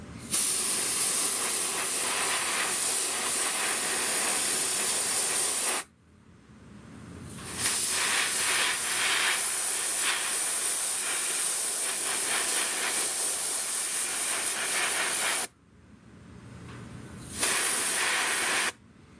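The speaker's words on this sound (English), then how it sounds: "You're spraying graphite." An airbrush sprays conductive graphite fluid in sustained hissing bursts, close and steady, broken by two short pauses before resuming.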